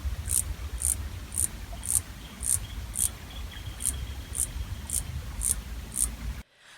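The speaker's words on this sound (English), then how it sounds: "That sound was made by the minor cicada, Platypedia minor." Minor cicada (Platypedia minor) calling in a local natural setting: a steady series of about twelve sharp, evenly spaced clicks over a low background hum, ending abruptly in silence.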